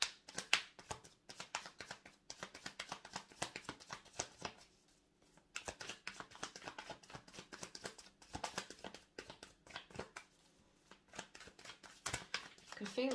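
Tarot cards are shuffled by hand in bursts of quick riffling slaps and flicks, close and crisp, with short pauses between rounds and no talk.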